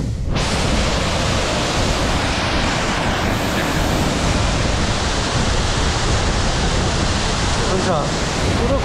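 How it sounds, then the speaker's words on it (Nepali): A big river rushes through a mountain valley in Nepal's Chum Valley, giving a loud, steady roar of water that fills the whole stretch without a break. "हुन्छ ठुलो खोला छ"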